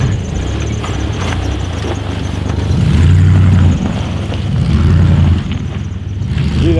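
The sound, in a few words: Jeep 4-liter engine revving in snow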